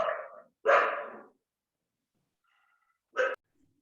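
A dog barks on an unmuted video call, two loud close barks in quick succession followed by a third shorter bark after a pause, with faint background noise in between.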